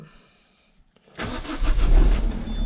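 A Renault Kangoo's engine cranks and catches after a near-silent pause, then runs loudly and steadily at idle close by, with no talking.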